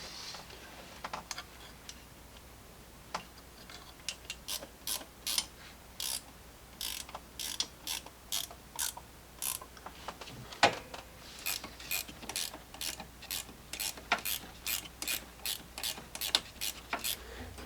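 A hand ratchet clicks in quick repeated bursts, tightening nuts during an engine block heater install on a Jeep Grand Cherokee with a 3.6L Pentastar engine, close and crisp over a quiet background.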